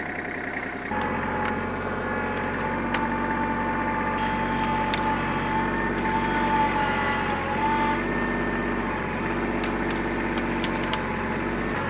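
A tractor engine idles and runs steadily close by on a farm, a continuous low rumbling drone with faint metallic rattles and clinks scattered over it, loud and unbroken.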